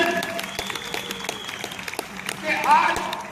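Audience applause at an award function in Hyderabad, crisp rhythmic clapping under music and a voice speaking, with a brief swell of louder sound near the end.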